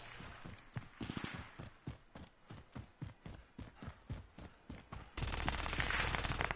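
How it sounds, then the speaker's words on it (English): Enemy gunfire in a Call of Duty match: a steady series of sharp, evenly spaced shots at mid distance, about a dozen cracks in a row, then a louder burst of noise near the end. "Enemy fire back at my right."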